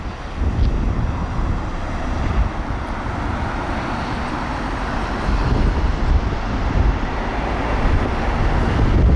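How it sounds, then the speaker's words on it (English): Steady roar of cars moving through a traffic light intersection on S. Wadsworth Blvd., continuous road rumble with wind noise across the microphone and no distinct single pass-by. "Waterton traffic going again, 2 cars this time."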